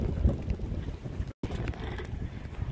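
Strong wind buffets a boat moored in a marina, with a steady low roaring rush and microphone wind noise that drops out briefly midway before resuming.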